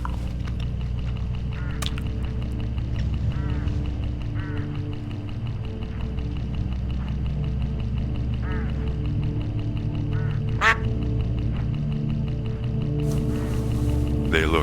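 Hooded crows gathered along a farm road in the video game Hitchhiker, giving repeated harsh calls over a steady droning background while a voice talks.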